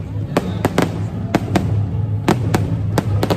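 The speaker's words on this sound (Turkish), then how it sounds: "Öyle bir havai fişek gösterisi var arkadaşlar." A fireworks display bursts in sharp, fairly close bangs at irregular intervals, about a dozen cracks over a steady low crowd murmur with faint voices.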